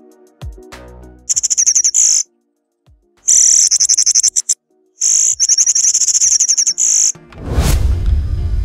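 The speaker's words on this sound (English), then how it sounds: "Black-chinned Mountain Tanager makes a high-pitched sound at regular intervals" Black-chinned Mountain Tanager giving bursts of high, rapid chirping calls repeated at regular intervals with short silent gaps, loud and close, ending in a broadband rustle.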